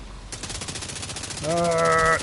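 Rapid automatic gunfire in The Division 2, a dense rattling burst of shots running steadily and loudly up close, followed by a sustained tonal mechanical whine near the end.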